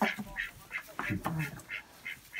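Farm ducks in an enclosure shared with chickens quack in a quick, regular series of nasal calls, fairly close, with a brief murmur of voices in the middle.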